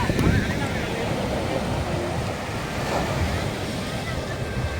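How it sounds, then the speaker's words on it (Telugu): Ocean waves break and wash steadily onto Pondicherry's Marina beach, a dense continuous roar of surf close by with wind buffeting the microphone. "అలలు చూడండి"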